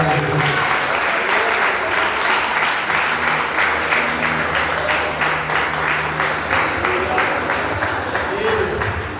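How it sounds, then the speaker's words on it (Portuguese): A church congregation applauding in praise during a Portuguese-language sermon, loud continuous clapping with rhythmic pulses and voices underneath, lasting the full nine seconds. "aplauda o Senhor"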